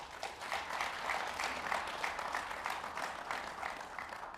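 Audience applause at a panel discussion, steady dense clapping from a crowd that holds at an even level throughout with no voices on top.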